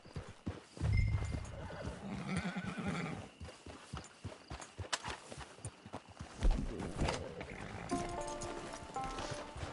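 Horse hooves clop along a trail in Red Dead Redemption Online, a steady uneven rhythm of close hoofbeats with a whinny and faint birds around.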